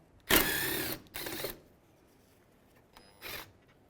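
A ratchet spins out a 10mm bolt during a radiator job on a 2015-2019 Hyundai Sonata, giving two quick bursts of rapid clicking followed by a shorter third burst after a pause, close and fairly quiet.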